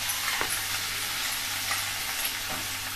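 Pounded garlic, ginger and two green chillies sautéing in hot oil for street-style pav bhaji, giving a steady close sizzle with a few soft stirring scrapes throughout, no talking.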